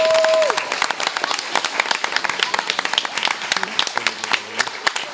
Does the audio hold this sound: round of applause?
yes